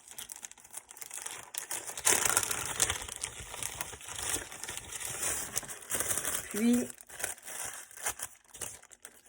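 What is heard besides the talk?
handling crinkling carbon paper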